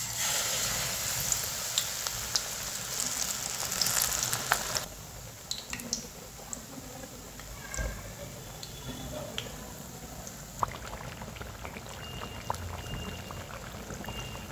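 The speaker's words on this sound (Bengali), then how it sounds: "এখন এটাকে তেলের মধ্যে ছেড়ে দেব।" Coriander leaf chops dropped into hot oil, giving a steady frying sizzle with occasional pops and crackles, louder at first and then settling into a quieter bubbling.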